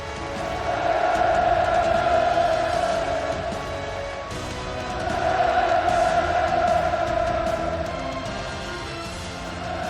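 Invited labor innovators and meritorious workers at a celebration marking the republic's 77th founding anniversary roar and cheer as a dense crowd, the wall of voices swelling, easing around the midpoint, then surging again.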